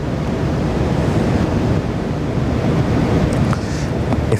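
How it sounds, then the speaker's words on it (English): Water whooshes continuously against the front of a float tube on the River Thames, a close, broad rushing wash mixed with wind buffeting on the microphone and no speech. "just the whooshing of the water in front of the boat"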